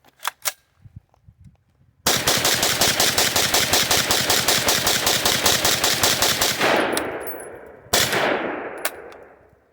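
An MPA30T, a budget MAC-11 clone, fires one long rapid full-auto burst of evenly spaced loud shots, then a brief second burst, with echoing tails and a few single clicks and pops before the firing begins.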